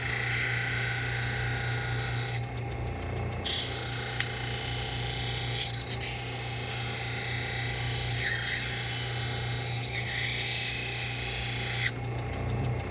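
An optical edging grinder bevels one side of an eyeglass lens edge in a lab, giving a steady close rasping grind throughout, with a constant low motor hum underneath.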